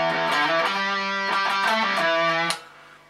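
A short phrase of distorted electric guitar lead from a song opens with a repeated picked note and moves through a few quick notes, loud and solo, then stops abruptly.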